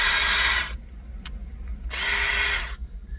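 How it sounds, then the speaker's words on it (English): A secondhand DeWalt power drill whirring loudly in two bursts, each under a second long, with a short click between them and a faint background hum. "That's a full-blown DeWalt drill, and it works."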